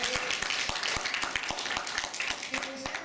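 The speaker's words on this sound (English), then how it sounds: "let's applaud that." An audience at a talk on medical cannabis breaks into sustained applause, a dense and steady wash of many hands clapping, rather quiet and heard from a distance.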